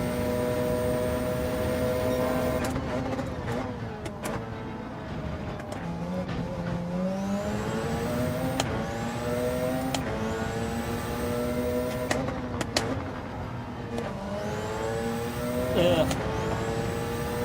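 A race car laps Monza in Gran Turismo 7, its engine note climbing through the gears and dropping on downshifts under braking, steady and loud throughout, while a person talks over it.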